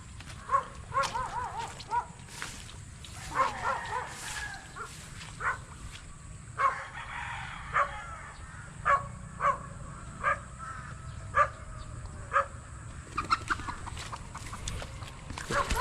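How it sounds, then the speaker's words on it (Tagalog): Chickens cluck and call in short bursts at a moderate distance, with an occasional caw-like cry, against quiet outdoor background. "Sobrang dami na naman po ng manok"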